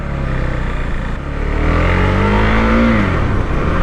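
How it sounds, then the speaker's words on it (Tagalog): A Husqvarna 401 Svartpilen motorcycle accelerating in a smooth, linear way, its engine note climbing steadily and loudly close by, with rising tone and wind rush and no talk. "immediately what we can observe, the acceleration of this bike is a bit tamed"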